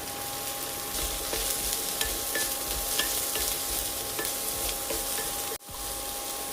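Chopped amaranth stems and green chilli stir-frying in a pan, a steady close sizzle with light stirring clicks and scrapes throughout and a brief pause near the end.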